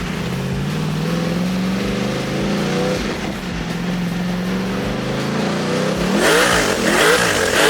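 A boosted LS engine in a Holden VE SS Ute running about 14 psi on wastegate, with a loud, continuous, close engine roar that rises in pitch under acceleration and ends with a harsh higher surge. No one talks over it.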